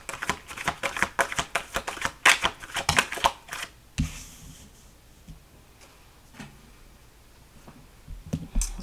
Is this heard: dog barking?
no